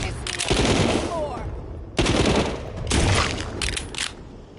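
Bursts of gunfire from a zombie-survival VR game, The Walking Dead: Saints and Sinners, loud and close, in three rapid volleys separated by brief pauses, with a voice talking over them.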